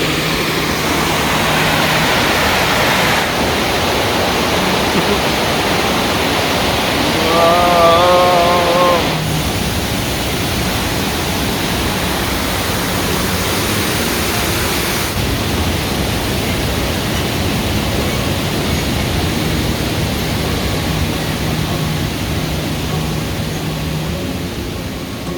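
Mina Creek Falls, a 7-metre waterfall beside Paronella Park in North Queensland, pours with a steady, broad roar that stays even throughout, with a brief birdlike chirp partway through and no talk.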